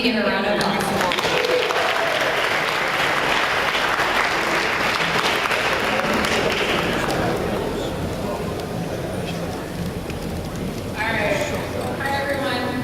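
Audience applause at the San Diego Mesa College Athletics STAR Awards 2019 ceremony, loud sustained clapping from a large crowd that fills the space, thinning slightly near the end.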